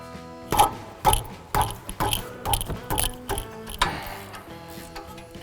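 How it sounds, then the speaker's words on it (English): A small hand ratchet clicks rapidly, close up, while loosening tight brake caliper bracket bolts on a car's spindle during a brake job, in a steady series of sharp ratcheting strokes with brief pauses, no talking. "even with a small ratchet, I'm able to remove them"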